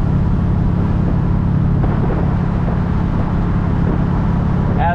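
A 1968 Chevrolet C10 pickup engine idles with a loud, steady, low rumble that holds without a break from start to finish.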